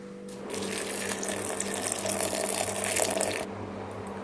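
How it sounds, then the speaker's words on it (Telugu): Tamarind being rinsed under a running kitchen tap, a loud gushing stream of water that starts abruptly, runs steadily for about three seconds, then cuts off. "చింతపండును కూడా కడిగేసుకుంటున్నానండి."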